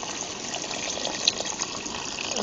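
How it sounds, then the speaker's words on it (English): Water gushes from a tap into a cooking pot for Puerto Rican rice and beans, a steady close splashing fill with a couple of brief louder spurts. "I'm going to just take some water and I'm going to fill it up"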